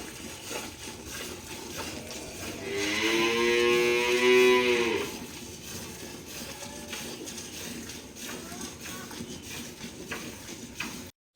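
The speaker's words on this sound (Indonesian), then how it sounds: "saat ini saya sedang melihat secara langsung proses pemerahan susu sapi" A cow on a dairy farm during milking gives a loud, drawn-out moo of about two seconds in the middle, set against a steady background of farm noise and machinery hum.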